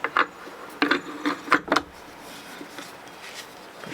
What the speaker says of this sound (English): Okay, put it into our vise.